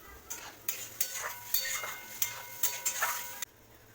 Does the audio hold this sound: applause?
no